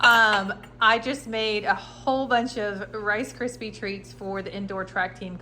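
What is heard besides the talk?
No distinct noise like a dog, phone or traffic.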